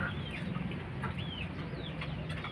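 Chickens cluck softly over a steady low farmyard rumble, with a few higher calls rising now and then.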